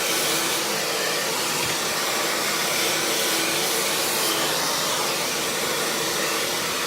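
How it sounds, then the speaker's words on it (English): A handheld hair dryer blows steadily on hair at the roots, a loud, unbroken broadband whoosh that holds constant at close range with no talking. "keeping that hair dryer moving consistently."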